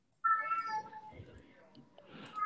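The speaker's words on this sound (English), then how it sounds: "I can hear someone's kitty cat." A cat meows in the background of a home setting, with harmonic cries near the start and again at the end, heard at moderate level under a low murmur of room noise.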